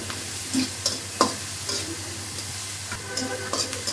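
Onions, carrots and a couple of green chilies frying in a pan, a close steady sizzle broken by several spatula scrapes and light knocks, with no voices.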